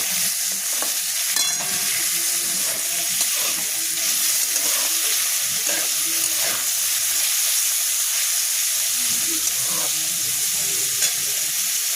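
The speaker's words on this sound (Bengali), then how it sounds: "এই গাজরটাকেও একটু নেড়ে নেব ভালো করে।" Chopped carrots are stirred in a hot frying pan, a steady bright sizzle with scraping strokes of the spatula running throughout, close and continuous with no talking.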